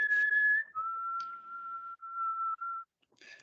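A sustained, clear whistled tone, in the style of the alien whistling in the film Tropic Thunder, holds steady for a few seconds before stepping slightly lower and cutting off, close and alone.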